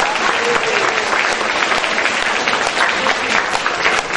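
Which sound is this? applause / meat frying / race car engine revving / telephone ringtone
applause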